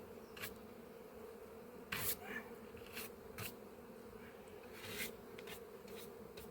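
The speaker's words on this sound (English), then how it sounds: "You can hear the buzzing because they can't find their home anymore." Near and continuous, bees drone around a hive entrance as they struggle to find their way home, with intermittent bumps and scrapes over the hum and no voices.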